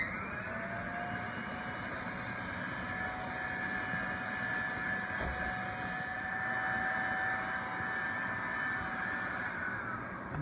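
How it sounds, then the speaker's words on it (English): A steady, loud vacuum motor whine with a high sustained tone runs throughout, constant and unbroken, as it sucks up willow seeds. "turn down the speed of the vacuum motor so that it doesn't suck"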